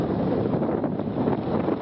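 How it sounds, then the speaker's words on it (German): Strong wind roars over the red sand dunes at Mui Ne, Vietnam, buffeting the microphone in a continuous, dense rush with no pauses or voices. "Der Wind weht stark drüber, deshalb hoffe ich, man kann mich verstehen"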